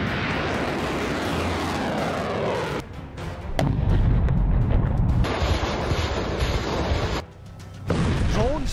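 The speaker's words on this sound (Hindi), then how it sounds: "ड्रोन से बरसते बम" Heavy rumbling blasts and deep booms of bombs dropped from drones roll in waves, broken by brief quieter gaps, with a droning engine-like roar between explosions.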